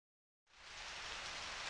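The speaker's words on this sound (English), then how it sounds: "Oh, it's raining, which is nice." Steady rain falls in Stardew Valley, starting abruptly from silence and continuing as an even, hissing wash of drops with no voices.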